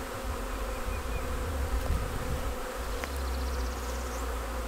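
Dense, steady buzzing of a honeybee swarm close by, a continuous hum with no voices.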